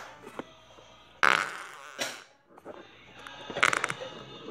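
Fart noises from a toy, several bursts of buzzy flatulent sound, one loud and abrupt, others softer and spluttering, separated by short quiet gaps.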